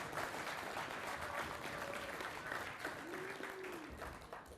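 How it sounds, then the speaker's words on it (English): Audience applause at a university event's closing remarks, a steady wash of clapping throughout, moderately distant and fairly faint, with faint voices mixed in. "So give yourselves a round of applause."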